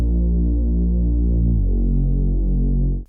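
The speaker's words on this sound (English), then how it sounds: "So the Reese Bass sounds like this." A warm, full Reese bass synth built from two layers in Serum drones loud and steady for about three seconds, with a slow throbbing pulse and no voice over it.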